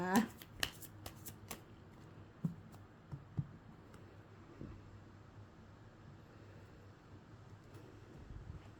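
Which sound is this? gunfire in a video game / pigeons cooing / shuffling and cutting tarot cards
shuffling and cutting tarot cards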